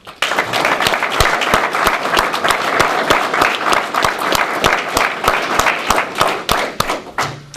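Warm applause at a firefighters' awards ceremony, many hands clapping together in a strong, regular rhythmic beat, loud and close, holding steady before fading out at the end.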